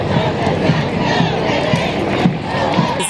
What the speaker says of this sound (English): Everyone's clapping, cheering, chanting.